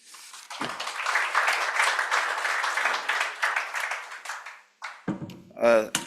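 An audience at a panel discussion on countering extortion in South Africa gives the panelists a round of applause, steady close clapping for about four seconds that fades out before a voice begins speaking.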